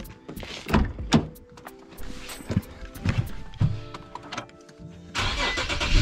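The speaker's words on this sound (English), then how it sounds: "close the hood. Turn the car on." Car engine of an Infiniti G37, Q50 or Q60 starting after a battery swap, with clicks and clunks before it cranks and catches into a steady idle near the end, close by.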